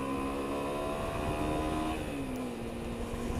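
A 2008 Honda Varadero 125 motorcycle engine revving hard while riding, a sustained buzzing drone that climbs and settles in pitch, loud and close with no talk.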